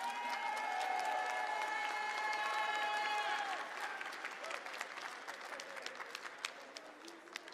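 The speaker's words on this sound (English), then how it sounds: "One more huge round of applause for all of our players and Hiroki-san." Audience applause at the Dragon Ball Super Card Game Championship closing, a dense sustained clapping from a large crowd that swells loudly, then thins into scattered claps with a tonal sound fading beneath it.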